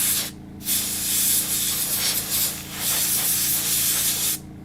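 Airbrush hissing out a steady spray of non-toxic paint, close and continuous with two short pauses, one near the start and one at the end.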